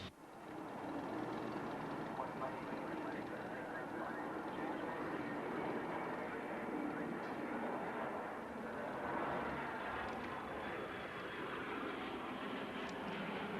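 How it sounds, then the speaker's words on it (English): A de Havilland Vampire, an early jet trainer of the Royal Australian Air Force, passes at an air show with a sustained broadband roar that swells slightly midway, heard at a distance without clear talk over it. "Anybody familiar with early jets will recognize this aircraft, the de Havilland Vampire that served as a jet trainer with the Royal Australian Air Force."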